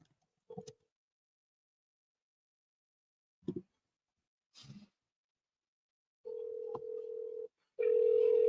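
Telephone dial tone and ringback tones while calling a seller, a few short clicks and tones followed by two steady, sustained tones toward the end, fairly quiet and with no talking.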